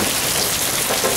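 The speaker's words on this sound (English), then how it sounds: "Hail." A steady, loud clatter of hailstones striking a roof in a severe storm, broadband and unbroken throughout.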